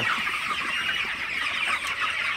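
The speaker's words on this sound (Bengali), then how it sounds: "মুরগিগুলাকে পানি দেওয়ার পর আসলে মুরগিগুলা কিন্তু পানি খেতেছে।" Broiler chickens on their 27th day cluck steadily in a dense, continuous chorus while drinking water in the evening, a close and busy flock sound with no talking.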